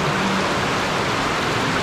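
Continuous heavy rain, a loud dense hiss of water pouring down without a break, close and even with no voices.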